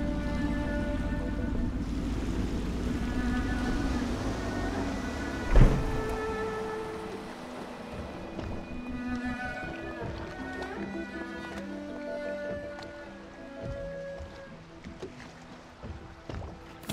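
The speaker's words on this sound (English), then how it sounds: "I should concentrate on piloting this boat." A small boat moves through water with soft sloshing in the game Dishonored, while game music with sustained tones plays along and a single thump lands early on.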